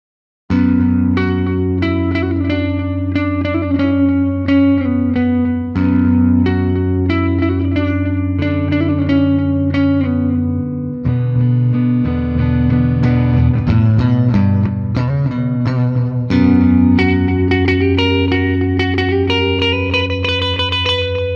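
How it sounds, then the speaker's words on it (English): A Gibson electric guitar plays loud, sustained chords and single notes through effects, distorted and chorused with some reverb, in a continuous passage with no talking. "Let's go ahead and get some basic tone samples from me, since Sammy G's already shown us"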